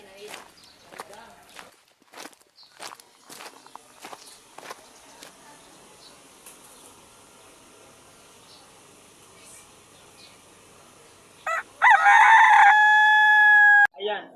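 A chicken crows loudly and clearly near the end, a sustained harmonic call lasting a couple of seconds. Before it come scattered footsteps and rustling over quiet outdoor background noise.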